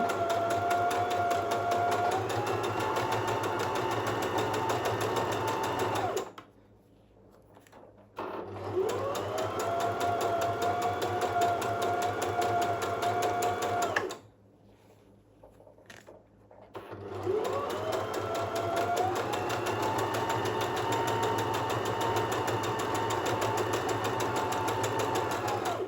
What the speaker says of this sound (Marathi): अगदी कडेने मी शिवते आहे